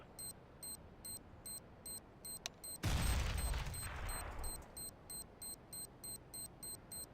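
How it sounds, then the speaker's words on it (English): A bomb being defused in a counter-terrorist game round, with a steady rhythmic electronic beeping, a burst of loud noisy rush partway through, then the regular beeps resuming. "Defusing the bomb."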